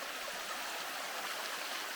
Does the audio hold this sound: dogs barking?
no